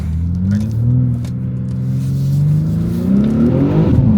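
A BMW X6M engine in Sport Plus mode revs up loudly and close, a deep continuous roar that climbs and falls in pitch over several seconds, with no talking.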